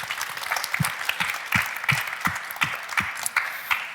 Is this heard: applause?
yes